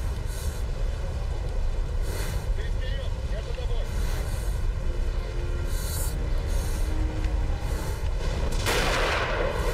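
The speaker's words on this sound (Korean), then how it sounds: "무슨 벼락이 무슨 총성처럼 들리니?" Sharp cracking thunder like gunfire in the video game Metro: Last Light Redux rings out repeatedly over a constant rumbling background, with one louder crash near the end.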